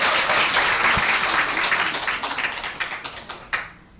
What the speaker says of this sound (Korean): 우리 최수민 국장님께 감사의 박수 부탁드립니다.